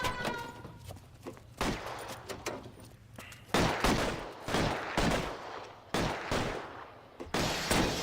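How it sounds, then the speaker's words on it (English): Rapid pistol gunfire in the video game L.A. Noire, a string of sharp close shots in uneven bursts over a low background hum. "Shoot with your pistols."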